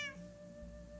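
A Minecraft cat gives a single short meow, close and clear at the very start, then fades into a quiet game ambience for the rest of the second.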